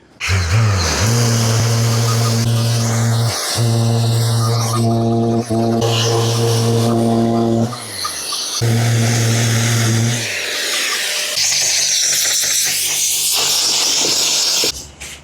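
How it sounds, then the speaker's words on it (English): An electric sander with 120 grit paper whines loudly in several long bursts, its pitch shifting as it runs, with brief stops between passes and a rougher hissing stretch near the end. "we're going to start with 120 grit on the electric sander"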